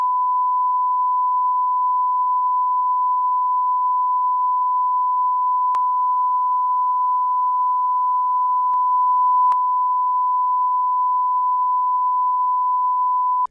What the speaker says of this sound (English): Just put a massive beep on it.